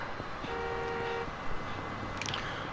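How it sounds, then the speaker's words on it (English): Car horn in the street game Yakuza 6, a single sustained honk of about a second amid busy traffic noise, followed by brief clatter, with no speech. "Who you honking at?"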